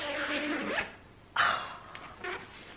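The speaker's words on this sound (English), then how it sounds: "The tote bag zips up." A tote bag's zipper is pulled shut in two quick, close rasping strokes, then a few softer rustles of handling follow in a quiet room.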